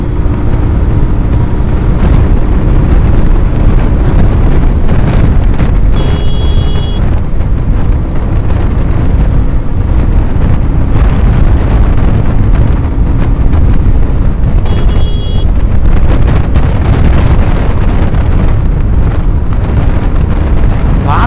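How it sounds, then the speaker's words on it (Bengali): Heavy wind buffeting the microphone while riding a Suzuki Gixxer motorcycle at speed, a loud, continuous low roar and rumble that stays at full strength throughout. "বাতাসের কি চাপ ভাই!"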